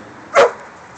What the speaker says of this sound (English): The dog doesn't like it either.